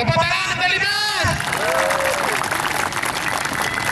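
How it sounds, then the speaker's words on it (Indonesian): Crowd applause at an Indonesian civil defense (Linmas) ceremony in Central Java: a broad, continuous wash of clapping from a large assembly, with a voice and whistle-like tones over it early on. "Tepuk tangan untuk Linmas."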